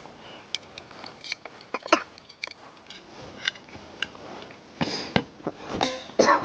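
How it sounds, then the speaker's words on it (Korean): Someone indoors coughs and clears their throat several times in short bursts while cooking doenjang stew in a Daiso pot inside a Kia Sportage during solo car camping, with soft handling clatter between the coughs. "아, 기침 난다."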